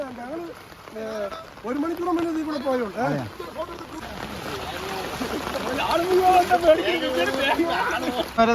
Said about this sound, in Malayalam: നോക്കിയാൽ ശരിക്കും നല്ല ശക്തിയായ രീതിയിലാണ് വെള്ളം വരുന്നത്